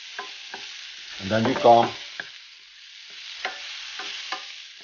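Mushrooms, onions and peppers being sautéed in a pan, with stirring scrapes and a low sizzle; someone briefly speaks near the middle, then soft intermittent clicks of the utensil continue.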